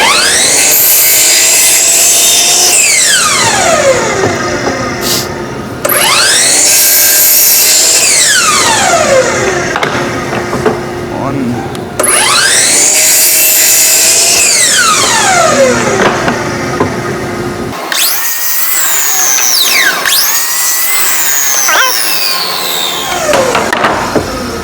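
Power saw cutting plywood to square the factory ends, loud repeated whining passes with pitch dropping as each cut bites, about four long cuts in a row, close and without talk.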